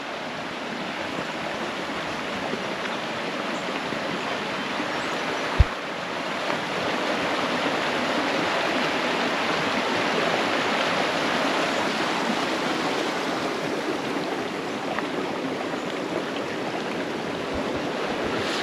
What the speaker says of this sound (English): here's this nice little creek